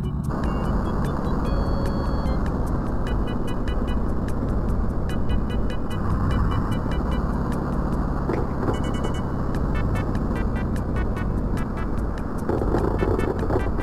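A Lamborghini drives in BeamNG Drive toward a broken bridge, its engine giving a steady, loud rumbling drone that runs without a break, with no talk over it.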